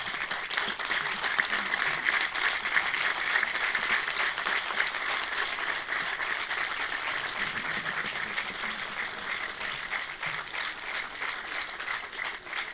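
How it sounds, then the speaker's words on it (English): A large audience at a formal speech event claps steadily in a dense, continuous round of applause that holds at an even level throughout, with faint voices mixed in. "I'll request this whole, the audience, to stand up and applaud for them"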